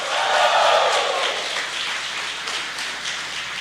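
Loud, sustained applause from a church congregation, many hands clapping at once, swelling early and then easing slightly while staying dense to the end.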